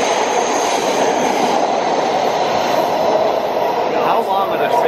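Atlanta MARTA subway train riding between stations, a steady loud rumble of wheels and carriage noise filling the whole stretch with faint squeal near the end.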